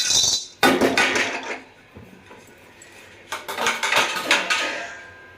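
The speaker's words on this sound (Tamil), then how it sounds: "அடுத்து கிராம்பை போட்டு வறுத்துக்கலாம்." Cloves and whole spices for biryani masala are dry roasted in a pan, with loud metallic clinks, rattles and scraping of a spoon against the pan in two bursts separated by a quieter pause.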